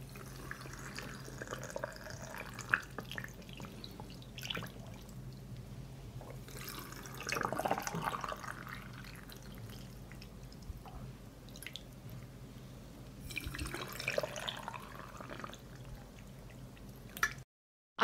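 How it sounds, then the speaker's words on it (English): Cold water poured into glass jars of plums, a faint trickling and splashing that swells in several separate pours with quiet gaps and light drips between. "I pour cold water into each jar to cover the plums."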